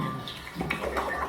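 Water runs steadily from a tap into a sink while someone washes their face, a brief close splashing wash with no talking.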